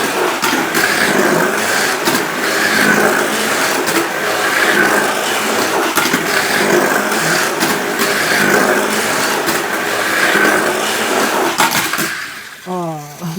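A slot car fitted with a competitive motor runs on a corkscrew track, giving a steady, loud mechanical whir with a buzzing motor note that holds constant before a brief shift near the end.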